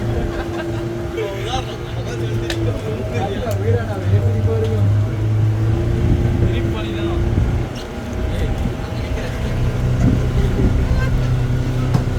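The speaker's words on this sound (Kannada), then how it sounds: "ದೊಡ್ಡ ಬೋಟ್ ಫೆರಿ ಬೋಟ್ ಹತ್ಕೊಂಡು ಕೂತಿದ್ದೀನಿ" A large ferry boat's engine drones steadily throughout, a low continuous rumble with water and wind noise, while people talk intermittently over it, on a trip from St. Mary's Island to Malpe.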